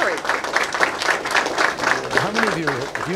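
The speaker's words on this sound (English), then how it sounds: "please join me in a round of applause for our U.S. Secretary of State" Students applaud U.S. Secretary of State John Kerry at Montgomery Blair High School with rhythmic, fairly loud clapping. A voice starts talking over it near the end.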